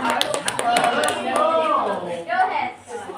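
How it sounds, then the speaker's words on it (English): Classroom applause for a student group about to present a picture-strip story, a brief burst of scattered hand claps fading under a teacher's voice speaking over it. "give them applause"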